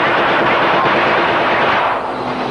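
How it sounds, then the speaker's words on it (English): Sustained gunfire and explosions from a war film about Inchon, a loud continuous roar of rapid shots and blasts that fills the whole stretch with no pauses and no talk. "explosions are happening in the background"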